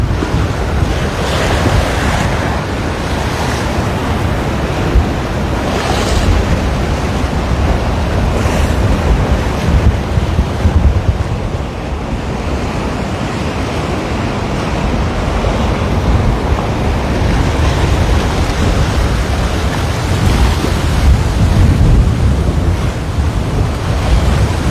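Ocean surf churns and crashes against the seawall at Waikiki, a loud continuous roar of breaking water and spray mixed with heavy wind buffeting the microphone, sustained throughout.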